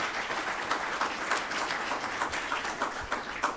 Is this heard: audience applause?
yes